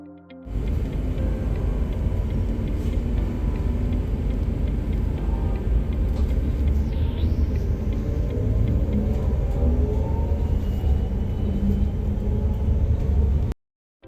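A Transjakarta bus rumbles steadily from inside as it rides, a continuous low engine and road drone with faint rattles, constant in loudness and without talk.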